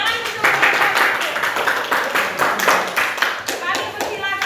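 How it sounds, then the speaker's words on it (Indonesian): Classroom applause after a student group's presentation in a teacher-training practicum, a steady patter of many hands clapping close by for several seconds, with a few children's voices mixed in. "tepuk tangan untuk"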